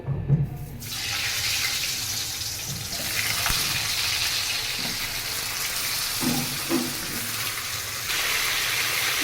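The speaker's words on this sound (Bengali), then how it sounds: "এবার পটলটাকে আমি ভেজে নেব।" Pointed gourd (potol) coated in salt and turmeric frying in hot oil, giving a steady broadband sizzle for the whole stretch with a few soft clatters of handling in the pan.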